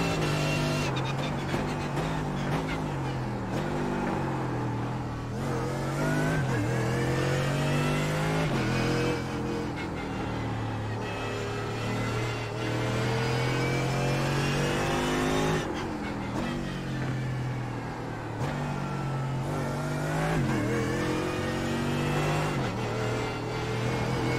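Mercedes GT3 race car in the iRacing simulator on the Nürburgring, its engine roaring loud and continuous through a hot lap, revving high then dropping on gear changes and braking before surging again.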